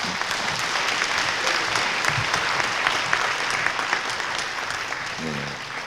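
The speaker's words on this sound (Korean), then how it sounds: "박수로." Audience applause at a Korean welfare foundation chairman inauguration ceremony, a steady, fairly close roomful of clapping lasting several seconds, with a brief voice near the end.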